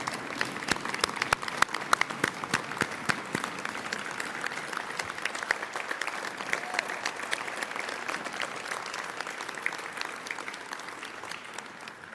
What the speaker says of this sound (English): Let's give our 2020 Hall of Fame class one more round of applause